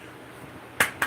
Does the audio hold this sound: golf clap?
yes